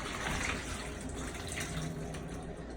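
A kitchen sink tap runs and drains after chicken is rinsed in vinegar, salt and water, giving a soft, steady splash of running water for a few seconds with no talking.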